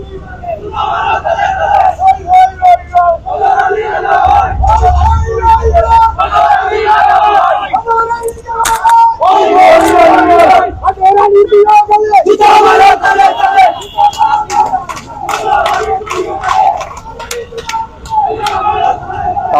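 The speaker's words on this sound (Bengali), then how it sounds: "কাউন্সিলর ফজর আলীর বিরুদ্ধে তারা নানান স্লোগান দিচ্ছেন" Crowd of marchers chanting slogans in unison at a protest march against a local councillor in Bishwanath, Sylhet, loud and close, with shouted call-and-response phrases and rhythmic surges, plus a brief low rumble near the start.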